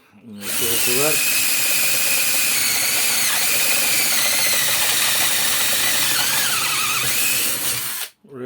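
Drill bit spinning at high speed, a loud sustained whine that starts up, holds steady for about seven seconds and cuts off, with a voice briefly audible at the start.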